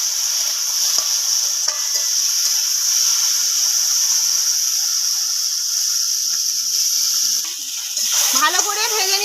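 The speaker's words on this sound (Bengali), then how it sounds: "ভালো করে ভেজে নেব।" Bata fish and kochur loti (taro stolons) frying in a pan with a little salt, giving a steady, close sizzling hiss with occasional stirring scrapes, briefly louder and bubblier near the end.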